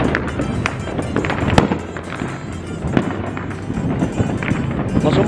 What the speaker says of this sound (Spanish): están por doquier los cohetes ahorita